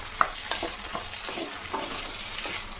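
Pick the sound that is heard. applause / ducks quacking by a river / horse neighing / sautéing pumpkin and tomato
sautéing pumpkin and tomato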